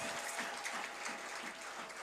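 A church congregation claps together in steady, dense applause, heard at a moderate distance and sustained throughout, with no voices standing out.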